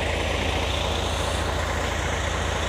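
Buses idle at a BRTS bus terminal in the afternoon. A steady, close diesel rumble with a low throbbing pulse holds at an even level with no talk.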